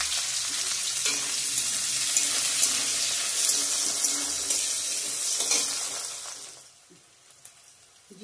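Bay leaf, onion, garam masala, cinnamon and cardamom sizzling in hot oil with a loud, sustained crackle and spatter that dies down sharply near the end, leaving a few faint pops and stirring noises.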